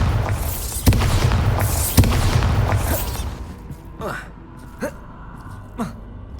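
Spell explosions from Confringo and Bombarda in Hogwarts Legacy: two loud booming blasts with sharp cracks and a long rumbling tail, followed by fainter whooshing bursts and breathy vocal sounds.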